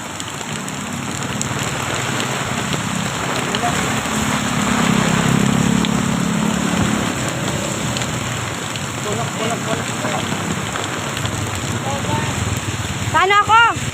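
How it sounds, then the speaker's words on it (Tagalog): Steady dense hiss of heavy rain pouring down, continuous throughout, with a voice briefly speaking at the very end. "Lakas yung ulan."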